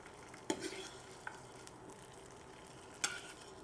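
Meat patties sizzling in a frying pan, a steady close hiss with a few sharp clinks of a utensil against the pan, no talking.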